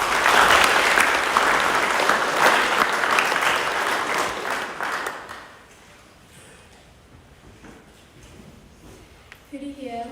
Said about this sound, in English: if you can give her a round of applause as each person comes up